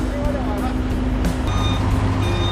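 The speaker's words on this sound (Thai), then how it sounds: "คันข้างนอก ที่จอดรออยู่ตรงนี้ก็จะถอยเข้าไป เพื่อตรวจตู้นะครับ" A truck backs into a container inspection bay at a Malaysian checkpoint, its reversing alarm beeping in a steady repeated pattern over idling engine rumble and nearby traffic.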